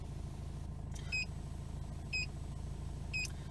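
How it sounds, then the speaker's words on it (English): A Pandora vehicle immobiliser beeps because its tag is out of range: three evenly spaced double-pitched electronic beeps about a second apart, over a steady low engine-like hum. "The system started beeping because what it's doing is it's detecting a tag is no longer in range of the system"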